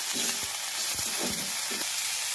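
Night jasmine flowers fry with onion and green chillies in oil in a wok, a dense steady sizzle close by with a few short stirring scrapes, no one speaking.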